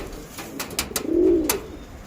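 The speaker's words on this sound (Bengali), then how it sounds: "এটা দুটো পাঠা পায়রা আছে, এগুলো কালো দানা চোখের পায়রা" Pigeons in a loft, a pair of black-pupil-eyed birds of the Mangalagiri or Andhra Lalsira breeds, giving a soft, low rolling coo that swells and fades once, with a few sharp clicks and flutters nearby.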